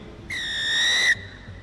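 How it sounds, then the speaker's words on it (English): One long, bright referee's whistle blast starts an inter-club rugby league match, close and clear for nearly a second, then fades into stadium ambience. "Referee Nipuna blows the whistle"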